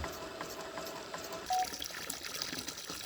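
Water pours from a 1-inch outlet pipe of a piston pump into a catfish pond, a steady, soft splashing gush heard from close by, fairly faint and continuous for a few seconds.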